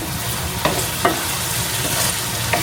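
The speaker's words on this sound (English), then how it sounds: "So while that's heating up, let me go ahead and stir the chow mein." Trader Joe's chicken chow mein stirred in a hot pan, steady sizzling frying with a few soft scrapes of the utensil, close up and without talk.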